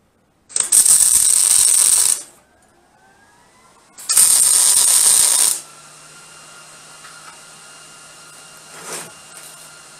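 Welding on a steel C-frame guillotine kit, with two loud crackling, hissing bursts of about one and a half seconds each, separated by a quiet gap and followed by a low hum.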